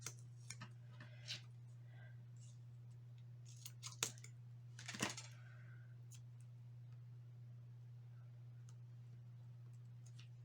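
New scissors snip paper for a Halloween card, a few crisp, separate cuts scattered across the first half over a steady low hum, then quiet.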